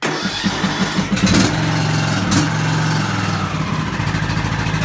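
A riding lawn mower engine is started during yearly servicing: the starter cranks in quick rhythmic pulses, the engine catches and settles into a loud, steady idle close by.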